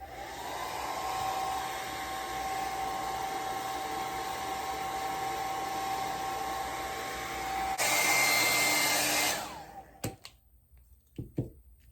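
A hair dryer runs steadily, drying a thrifted craft project with a smooth whirring hum that shifts to a louder, breathier blast near the end before clicking off, followed by a few light handling clicks.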